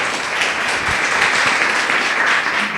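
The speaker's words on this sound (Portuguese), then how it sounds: "receba e louve a Deus com as suas palmas" Congregation applauding in church, a steady dense wash of clapping lasting throughout, fairly loud and continuous with no talking.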